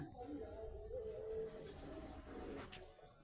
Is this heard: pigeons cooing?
yes